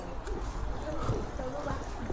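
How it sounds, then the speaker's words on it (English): Horses' hooves clip-clop at a tourist site in rural Yunnan, China: a brief patter of hoofbeats heard under a person talking nearby. "So there's horses here, I'll show you a bit later."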